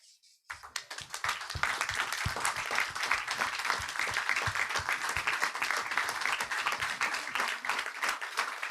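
Sustained applause fills a hall as women from Indian aviation stand to be honoured, starting abruptly after a brief quiet moment and continuing dense and steady throughout.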